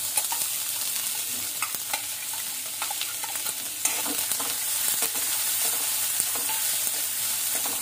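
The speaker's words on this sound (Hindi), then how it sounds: "प्याज को सुनहरा होने तक भूनेंगे" Finely chopped onions, added after green chilies, sizzle and fry in a pan while being stirred: a steady, bright crackling hiss with frequent small scrapes and clicks of the spoon, close and continuous.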